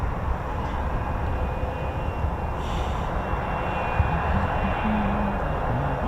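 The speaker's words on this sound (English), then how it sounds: "We've got the Embraer." An Embraer aircraft flies past near RAF Coningsby, giving a continuous broad engine roar that holds steady throughout at a moderate distance.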